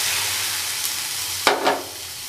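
Chopped tomatoes drop into a pan of sautéed onions for a mushroom gravy, setting off a brief burst of sizzling over a steady background hiss.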